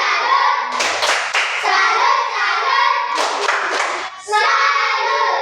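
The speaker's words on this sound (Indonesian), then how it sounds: "mari kita berikan tepuk salut untuk kelompok 2" A classroom of students claps in a patterned rhythmic cheer for a group, with bursts of hand claps between short chanted voices, loud and close.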